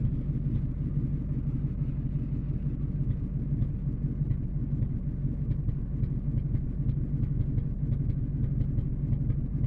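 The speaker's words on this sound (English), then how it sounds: "can definitely hear a plug popping a little bit." Truck engine idling with a misfire from a popping spark plug: a steady low rumble with faint, irregular pops and ticks running through it, recorded close by with no talk.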